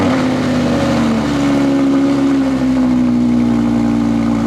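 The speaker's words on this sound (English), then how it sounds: "Let's start the R8 out and pull it out of the garage." Audi R8 engine running steadily at a low idle, a loud continuous hum with a sustained droning tone and a slight pitch dip, heard close and alone.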